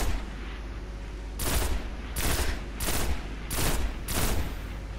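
Pulse rifle fire in the Destiny video game during PvP: five evenly spaced loud bursts, each a short clustered volley, standing out over a quieter background hum.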